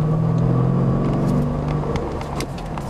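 A Chevrolet Camaro engine drones steadily from inside the cabin while driving on the highway, a loud low hum that eases slightly as it goes, with faint clicks and rattles.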